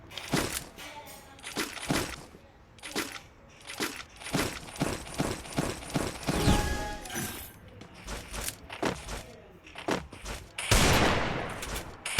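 Bursts of gunfire from a shooting video game crack out repeatedly in quick clusters, loud and close, with short gaps between volleys and a heavier explosive blast near the end.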